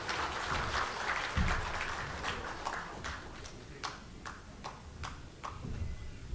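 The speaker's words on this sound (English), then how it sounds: "please put your hands together for a round of applause for our MC, Mr. Viliame Wangailiva" A crowd at the 2013 Fiji Business Excellence Awards night applauds the MC, with a wash of clapping that thins into sparse, distinct individual claps toward the end.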